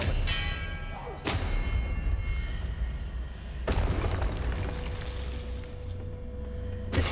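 A spell impact in the Hogwarts Legacy video game, two sharp booming hits a few seconds apart over a low rumbling game soundscape, fairly loud and close with no talking.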